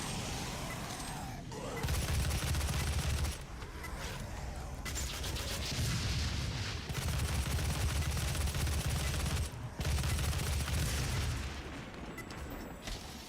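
Dense, continuous gunfire and explosive blasts from the video game Doom 2016, heavy and relentless with brief dips between volleys.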